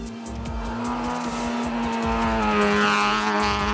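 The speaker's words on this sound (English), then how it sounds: "Second on the road on the opening day was the Toyota Gazoo Racing Etios R2 of Guy Botterill and Simon Vasilile" A Toyota Gazoo Racing Etios R2 rally car on a stage at the Secunda Rally, its engine holding a loud, steady high-revving drone close by, with faint tire noise underneath.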